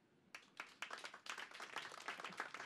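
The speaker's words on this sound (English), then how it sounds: "By round of applause." Scattered hand claps from a small audience at an unplugged acoustic performance, starting sparsely and building into quiet, uneven applause.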